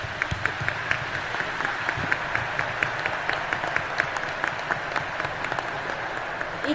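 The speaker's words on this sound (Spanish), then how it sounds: "démosle un aplauso al cardenal y a los padres" An audience at a Catholic mission panel applauds a cardinal and priests, a steady, even clapping from a modest crowd with a few sharper individual claps standing out, moderately loud and without talk.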